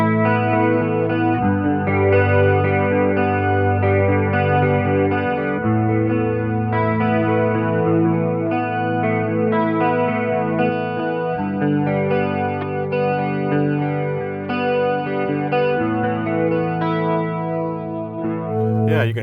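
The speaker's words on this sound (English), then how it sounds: "we definitely want to go with tri-chorus for this one" Guitar chords run through a TC Electronic Corona Chorus pedal set to tri-chorus, giving a thick, shimmering, swirling tone that rings on continuously and loudly with no talking.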